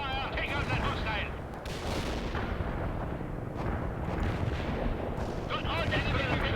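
Air artillery fires in the World in Conflict video game, a dense, rumbling barrage of shots and blasts with radio-style voices speaking over it throughout.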